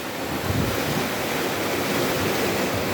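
Steady wind and rolling sea waves wash against the shore where small boats head out into the open sea, a continuous broadband roar with strong gusty wind noise on the microphone and no speech.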